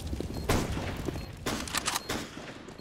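Rapid gunfire bursts in a competitive Counter-Strike: Global Offensive match, several sharp volleys close and loud in quick succession, with brief gaps between them.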